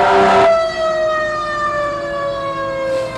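Fire engine siren wailing loud and close as a ladder truck pulls in, a steady sustained tone sliding slowly downward for a few seconds.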